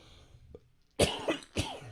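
After a quiet moment, a person nearby lets out two harsh, throaty coughs in quick succession.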